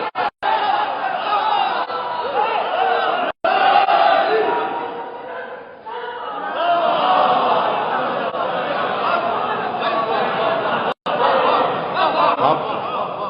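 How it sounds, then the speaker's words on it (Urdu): A crowd shouts religious slogans in unison, a dense, loud wall of many voices sustained over several seconds with brief breaks, rising and falling in waves of chanting. "میں نے کہا نعرے تکبیر لگائی اللہ اکبر، نعرے رسالت یا رسول اللہ، نعرے حضرت علی صلوات"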